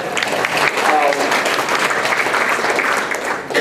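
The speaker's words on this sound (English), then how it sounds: "Let's give a round of applause" An audience at a health equity event gives a round of applause, dense and steady clapping filling the whole stretch at full volume.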